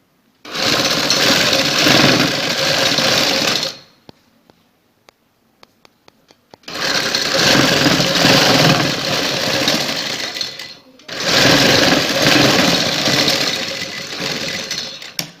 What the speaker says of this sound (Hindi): वो भी इसके ऊपर सिलाई लगानी है किनारे के ऊपर।